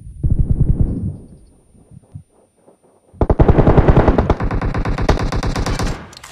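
PUBG Mobile gunfire: a burst of automatic rifle fire, a short pause with a few scattered shots, then a long loud sustained stream of rapid shots, close and dominant.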